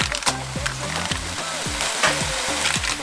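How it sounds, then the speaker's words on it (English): Fresh spinach going into a stew pot of cooked tomatoes, for a no-oil peanut butter spinach and tuna stew, brings steady close sizzling with stirring and clunky scraping strokes, no voices. "Okay, so the tomatoes are cooked. We're gonna add our spinach in."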